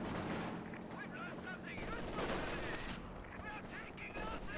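LMG machine gun fire from Grenadier infantry in a Company of Heroes match sounds as dense rapid bursts with distant explosions, layered under game audio and a caster's voice.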